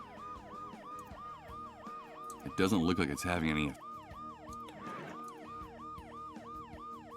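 A wailing ambulance siren in the video game Dead Synchronicity cycles in a fast, regular up-and-down whoop, steady and fairly close, while someone speaks briefly over it midway.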